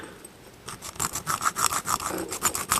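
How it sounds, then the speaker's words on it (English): A bushing is cut out of a 4L80E automatic transmission by hand on carpet over concrete, heard as a close run of quick rhythmic rasping strokes that speeds up after a quiet start. "I'm going to show you cutting out this bushing"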